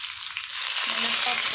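Chana dal and garlic dropped into hot oil in a pan give a close, bright sizzle that jumps louder partway through and then keeps frying steadily, with no voices.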